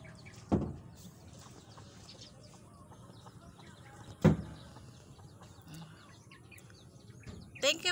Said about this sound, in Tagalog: puro na manok dito sa Tumuyo